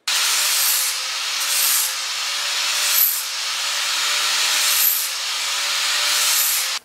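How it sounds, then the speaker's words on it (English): Flap sander grinding along the sharp cut edges of metal pieces for a homemade branding iron, a steady loud abrasive hiss with a few brief swells as the disc passes over edges, no talking. "Now we just need to take a flap sander and go around and clean up these sharp edges."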